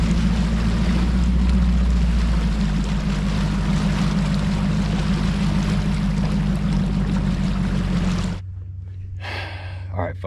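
A bass boat motor idles on Kentucky Lake with a loud, steady low rumble that suddenly cuts off, leaving quieter background noise and a brief sound at the end.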